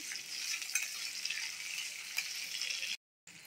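Ingredients for ivy gourd chutney fry in a pan with a steady, close hiss and crackle, broken by occasional scraping ticks, then a brief silence near the end.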